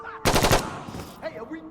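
Automatic gunfire in the video game Insurgency: Sandstorm: a short, loud burst of rapid shots up close, followed by fainter distant fire and a shouting voice.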